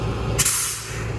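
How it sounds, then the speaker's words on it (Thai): A short, sharp burst of air brake hiss comes from a truck hauling a PC-100 excavator. It is loud and close, releases abruptly, then trails off over a steady idling engine. "เราล็อกเบรกมือไว้ครับ"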